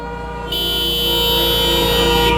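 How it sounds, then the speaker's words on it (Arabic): A car horn blares in one long, loud, continuous blast close by, holding steady for about two seconds with no voices over it. "اللي مطفر يدق بوري"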